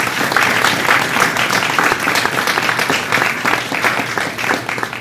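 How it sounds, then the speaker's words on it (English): A theater audience at an apprenticeship performance breaks into steady, full applause, a dense wash of many hands clapping evenly throughout with no voices on top. "So let's give them a round of applause"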